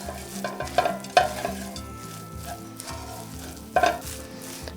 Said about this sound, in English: I just like to mix it right here in my pan.